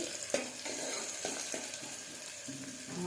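Onions frying in hot oil for a ridge gourd curry, a steady soft sizzle with a few brief utensil taps, heard close and alone with no talk.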